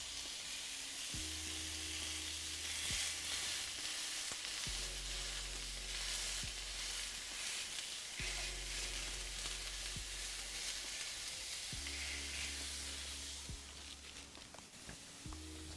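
Burger patties for bao bun burgers sizzle steadily in a pan, a continuous close frying hiss. A few clinks and light knocks of cookware come through, and a low hum starts and stops several times.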